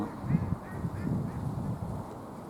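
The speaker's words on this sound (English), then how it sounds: "It's like a laughing duck, isn't it?" Duck calling on a pond among black-headed gulls, a laughing, honking call repeated in short bursts at a moderate distance, faint over outdoor background noise.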